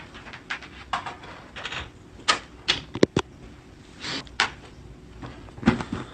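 Tarot and Moonology cards being handled and shuffled, a string of close, dry clicks, taps and soft rustles spaced irregularly, with a few sharper snaps, alone without talk.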